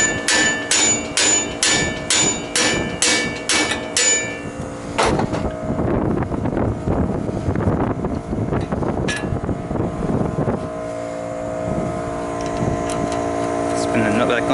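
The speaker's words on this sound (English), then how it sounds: "Just smack the steering knuckle until the tie rod dislodges." A rapid series of sharp metallic hammer blows on a Ford F-150 steering knuckle to dislodge the tie rod, about ten strikes in a steady rhythm, followed by rougher clanking and workshop noise.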